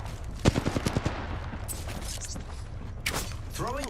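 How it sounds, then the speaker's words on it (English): Enemy guns fire in a video game as a fast string of about six sharp shots in a row, followed by scattered quieter hits and a whooshing effect, heard moderately loud over background game noise. "The enemies are shooting at me."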